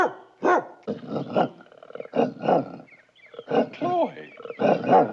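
A dog barks and growls in several short bursts, close and fairly loud, with gaps of quiet between outbursts in an indoor sitcom scene.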